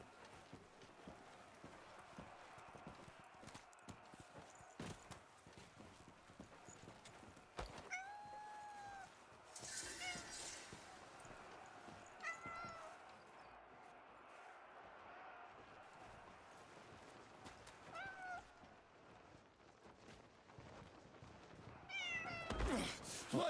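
A cat in the video game Crimson Desert gives several short, faint meows spread through a quiet outdoor scene, with soft hoof clops and footsteps, a brief rustling burst and a louder closing flurry.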